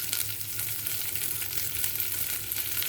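Cumin seeds crackle in hot oil for a kadhai paneer, a dense, even sizzle with fine popping throughout and no voices.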